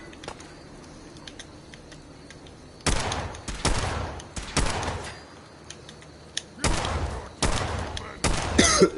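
Gunfire from an inaccurate gun in the Fallout game, sharp bursts of rapid shots in several clusters after a quiet opening, fairly close and loud over faint background ambience.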